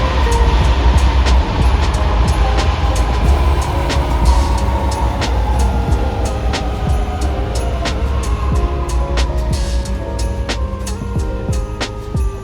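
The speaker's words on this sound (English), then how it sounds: "Here's a better shot of the metro coming into the station towards Tallawong." Sydney Metro train rolling into a station platform towards Tallawong, a loud continuous low rumble with rising and falling whine and repeated clicks and clatter running the whole time, no talk over it.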